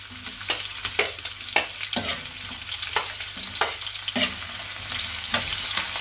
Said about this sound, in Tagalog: sunod na rin natin mga idol yung ating sibuyas